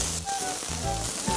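Sweet peas go into a hot wok with ginger slices, a little extra oil and pan-fried river shrimp, producing a brief, close, loud sizzle under a low hum, with no voices.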